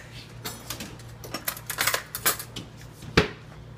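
A fork clinks and scrapes against a mug while stirring sugar cookie batter, a quick series of light irregular taps and scrapes, close and alone.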